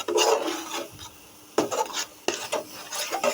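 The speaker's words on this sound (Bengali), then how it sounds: "এই সময় কিন্তু প্রচুর পরিমাণে নাড়তে হবে, নইলে কিন্তু আঠালো করা যাবে না।" Watermelon laddu mixture being stirred in a pan: scraping, rasping strokes of a spoon against the pan in irregular bursts, close and moderately loud with short pauses between strokes.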